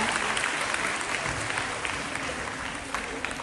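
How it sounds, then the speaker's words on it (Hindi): An audience at a girls' inter college workshop presentation on folk dance applauds. Dense, sustained clapping fills the whole stretch at an even level, easing slightly toward the end, with a voice faintly beneath it. "आप सभी की जोरदार तालियां"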